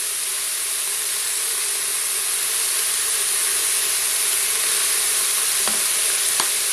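Zucchini, peas and other vegetables sizzle steadily in a pan seasoned with herbes de Provence, a dense continuous frying hiss with a couple of faint utensil clicks near the end.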